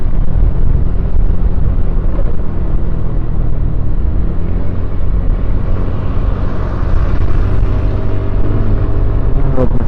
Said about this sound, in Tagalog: Heavy ng traffic dito.